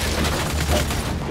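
Turret gunfire in the Gears 5 video game, a continuous roaring stream of rapid heavy shots, loud and close for the whole stretch, with no pauses.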